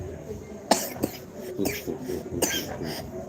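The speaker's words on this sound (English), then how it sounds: "what's all that coughing about?" Several sharp coughs, close and fairly loud, spread unevenly across a few seconds with brief pauses between them.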